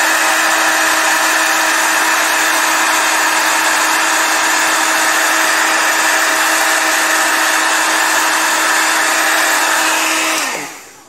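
An embossing heat tool melts ultra thick embossing powder, a loud, steady whirring blow held close for about ten seconds before it switches off and winds down.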